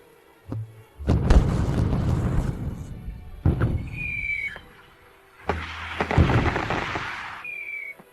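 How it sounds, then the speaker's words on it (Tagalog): Fireworks go off outdoors at night, two long bursts of crackling and booming with whistling rockets rising between them, loud and close, with no talking. "Pero may nagpapaputok pa rin ng fireworks para sa kanya."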